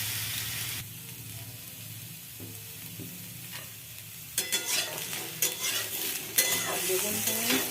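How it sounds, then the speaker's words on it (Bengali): Eggplant and vegetable stems are stir-fried in a pan with very little oil, with a steady soft sizzle under repeated scraping and stirring strokes that grow louder and more frequent toward the end. "সব কিছু আরও ভালো করে একটু ভেজে নেব"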